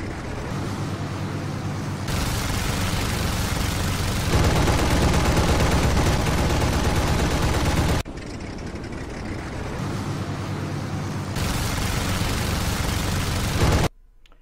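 MG-17 machine guns fire in a video game as long, dense, continuous bursts over a roaring engine. The bursts come in loud sustained blocks with brief shifts in level, then cut off abruptly at the end.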